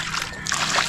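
Water being poured out with a splashing, sloshing burst that builds in the second half, close and fairly loud, with faint voices in the background.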